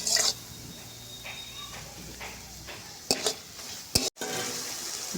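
Chicken fries in a pan for Chicken Patiala, a steady hiss of sizzling under a spoon scraping and clinking against the pan in short strokes, with a voice speaking over it.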